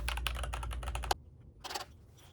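Rapid, crisp keystrokes on an ilovbee i87 mechanical keyboard, a dense clacking run that stops abruptly, then after a short gap a few more scattered key presses close by.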